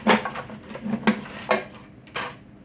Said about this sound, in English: So what I do to help cut through this sticky meringue, I take my knife.